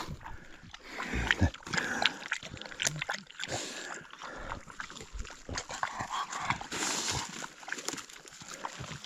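Dogs panting, lapping water and moving about close by during a mushroom-foraging outing, with some rustling and brief human voice sounds mixed in.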